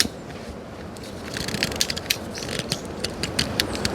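A lighter is struck over and over to start an outdoor cooking fire in the Jamaican bush, making a run of sharp, close clicks that grow denser and louder toward the end.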